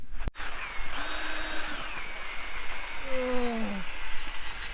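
A cordless drill grinding coffee whirs steadily, its pitch sliding up and down as it grinds, with a brief click at the start.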